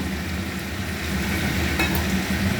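A hot pan of fried potatoes hisses and sizzles loudly and steadily as water is added, while cooking a fish curry, with no talking.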